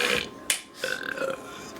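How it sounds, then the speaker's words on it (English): A loud, close belch during a playful belching contest at home: a short burst, a brief gap, then a longer croaking belch with a wavering tone, with no talk over it. "Do you want to have a belch war?"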